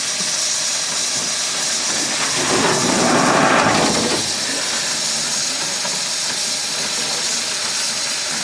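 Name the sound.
steam locomotive hissing steam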